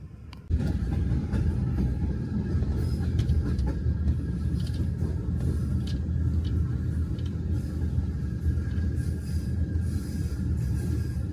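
A steady, heavy train rumble fills the clip from inside a moving overnight train from Cairo toward Luxor, Egypt, low and continuous with faint rattles and metallic squeaks, no voices.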